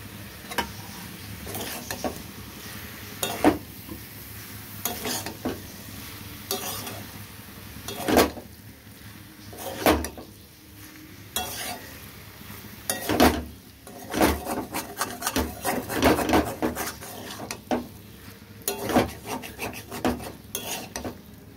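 Potatoes are stirred in a pan with banana flower and shrimp, giving repeated loud scraping strokes of a spatula against the metal over a soft sizzle, in uneven bursts with no talk.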